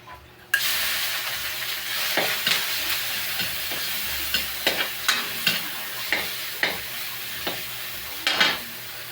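Ground meat frying in a pan with garlic, a steady sizzle broken by repeated scraping stirs every half second or so, close and moderately loud with no talk.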